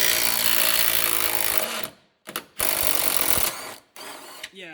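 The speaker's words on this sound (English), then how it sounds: "you can then go ahead and go over to your impact gun" Pneumatic impact gun on a 19 mm suspension bolt of a 2015 Kia Forte 5 during control arm work, loud rattling bursts stopping and starting in several short runs, close by with no talk.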